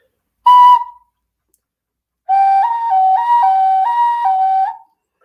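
A studio pottery whistle shaped like a bird is blown twice, loud and close: first a short shrill toot, then a longer warbling trill that alternates between two pitches, with no talking.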